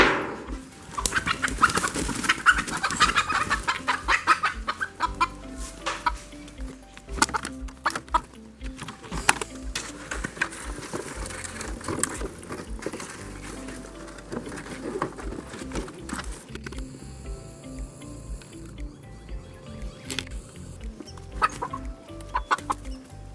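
Chickens cluck and murmur continuously nearby in a chicken tractor on a homestead, with bird calls and scattered rustling throughout.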